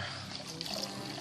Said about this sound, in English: we got a little aeration in there to kind of aerate a little bit of the wort here as it's coming down